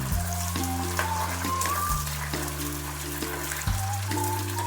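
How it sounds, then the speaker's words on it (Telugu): Dried red chillies fry in a pan with a soft, steady sizzle for the whole stretch, mostly buried under louder background music. "తర్వాత ఎండుమిర్చి ఇవి బాగా వేయించుకున్నాం"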